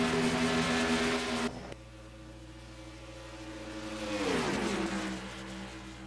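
Simulated stock car engines from the NR2003 racing game drone in a tight pack at Daytona, a loud steady roar that cuts abruptly to a quieter hum, then swells again with a falling pitch sweep as cars pass.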